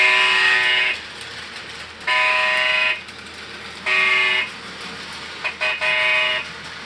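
A model train locomotive sounds its horn in four separate blasts, each about a second long, the last one broken up, over a low steady running rumble.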